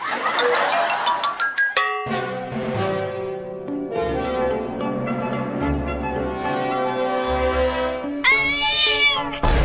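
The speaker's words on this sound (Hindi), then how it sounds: "वो छोटी बिल्ली अभी अभी बोली" Repeated high, tonal kitten meows over layered musical tones, fairly close and steady, with a brighter burst of cries near the end.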